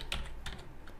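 Quick keystrokes on a computer keyboard, a few soft clicks spaced irregularly within a second, close and quiet with no talking.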